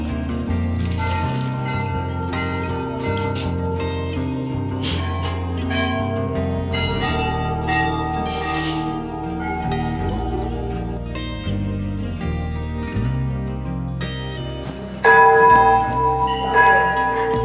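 Many bells at the Chitai Golu Devta temple in Almora are struck again and again, their metallic tones overlapping and ringing on, growing louder and brighter near the end, with no talking.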